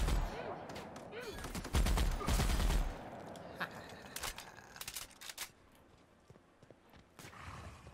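Gunfire in the video game The Outer Worlds comes as a cluster of loud, rapid shots early on, followed by scattered fainter bangs and thuds trailing off over several seconds.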